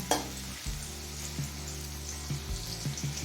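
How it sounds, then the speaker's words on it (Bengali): Garlic frying in a pan gives a steady close sizzle, with a spatula knock near the start and occasional soft stirring sounds throughout. "রসুনটা দিয়ে মিনিট খানে ভেজে নিয়েছি"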